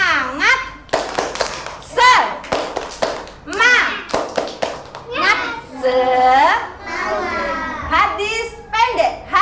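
A group of young children perform a spirit clapping chant in a classroom, their voices rising in unison with sharp rhythmic hand claps, loud and close, mostly at the start.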